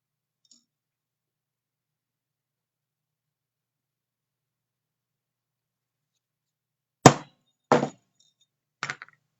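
A small hammer taps a silver hoop earring on a jeweller's bench: three sharp metallic strikes after a long silence, the first two spaced apart and the last a quick double tap, close and clear.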